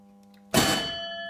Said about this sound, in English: there's a big bell that sounds